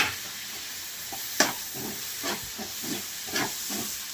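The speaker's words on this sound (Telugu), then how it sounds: "ఇవి కూడా మెత్తగా మగ్గే వరకు కూడా ఫ్రై చేసుకోవాలి." Tomatoes and onions frying in a pan, a soft steady sizzle with faint stirring clicks and scrapes, heard alone without talk.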